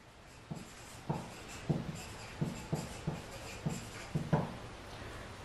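A pen writing on paper during a maths lesson, a series of soft scratchy strokes and taps in an irregular rhythm, close and quiet over faint room hiss.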